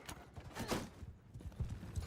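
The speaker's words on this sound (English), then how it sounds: "Oh, there goes the horse." Quiet hoofbeats of a horse in the video game Realm of Thrones, an uneven clip-clop rhythm against low background noise.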